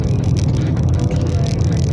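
A car being driven, its engine and road rumble forming a loud, steady low drone heard from inside the cabin with no break.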